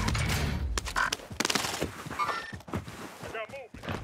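Gunfire in a video game, with scattered shots and thuds mixed into game effects while people talk throughout.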